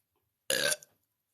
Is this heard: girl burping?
yes